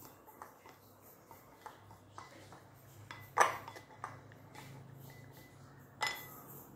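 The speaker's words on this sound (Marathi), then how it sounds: "आता हे सर्व मिक्स करून घ्यायचे" Chaat masala and cumin powder mixed in a bowl for a papad snack, heard as faint, scattered spoon-on-bowl clinks and scrapes with two sharper knocks, close and otherwise quiet.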